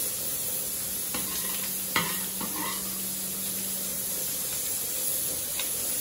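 Onion frying in melted butter alongside browned sausage over low heat for farofa, giving a steady soft sizzle with a few brief stirring scrapes and clatters, no voices.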